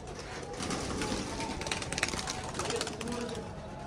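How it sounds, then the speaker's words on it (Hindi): Many pet pigeons coo softly in a crowded home loft, a steady murmur of overlapping calls close by, with wing rustles and people talking over them now and then. "ये देखें माशाल्लाह कितने सारे कबूतर हो गए हैं।"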